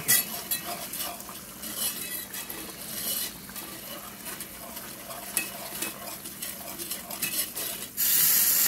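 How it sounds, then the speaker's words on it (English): Juices from a crock pot roast are whisked and stirred in a hot pan to thicken into gravy, giving a continuous close sizzle with rapid scraping and clinking of the whisk against the pan. "I'm going to start thickening up with all that juice from that roast in here and make a gravy."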